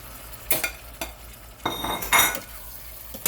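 Shrimp and noodles being stirred in a pan, several separate scraping and clinking strokes of a utensil against the metal over a faint sizzle, close and fairly quiet.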